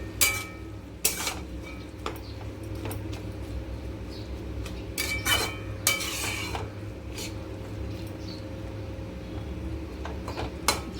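Tomato and spinach curry with potato and carrot stirred in a pan, with soft, irregular scraping and clinks of the spoon against the pan over a steady low background hum, occasional sharper knocks standing out.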